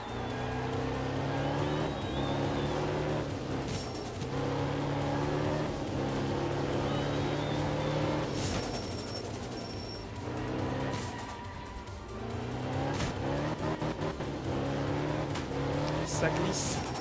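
A rally car in the racing game Art of Rally drifts and slides: a sustained engine drone rises and falls in pitch with gear changes, and brief tyre-squeal bursts cut in during the slides.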